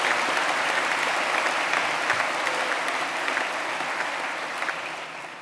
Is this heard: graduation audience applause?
yes